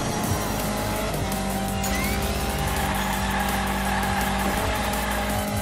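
A toy car drifts in the Hot Wheels Unleashed racing game, with a loud continuous engine roar and sustained tire squeal as it slides, heard throughout without talk.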